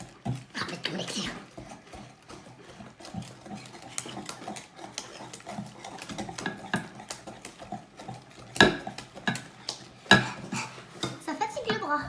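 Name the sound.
vigorously stirring chocolate cake batter in a bowl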